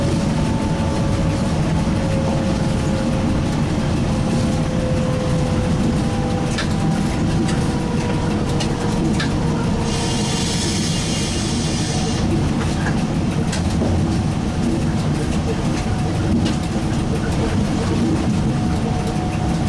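Inside the cab of a Z 5300 train, a loud, steady rumble of rolling wheels and running gear dominates, with a brief hiss of braking partway through and faint tonal whines above the roar.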